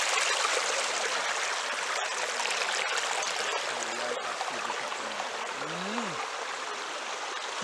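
A flowing stream outdoors in Freeman's Hall, Trelawny, Jamaica, rushing steadily and loudly across the whole stretch, with faint voices low underneath.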